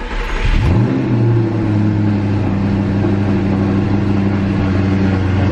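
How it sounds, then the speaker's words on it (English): An Audi R8 engine with an app-controlled aftermarket Armytrix exhaust cranks and fires up with a quick rev, then settles into a steady, deep idle rumble close by. "What we have to do first is actually turn the car on."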